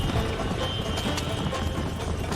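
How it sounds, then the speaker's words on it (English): A horse gallops in Red Dead Redemption on PS3, a steady rapid clip-clop of hooves under constant game ambience, loud and continuous with no talk. "Tried doing it every 2nd gallop, and the horse slowly still gets tired."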